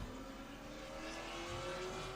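A race car runs an autocross course at Laguna Seca, its engine a steady, loud drone with rising pitch held throughout, faint tire noise beneath and no voices.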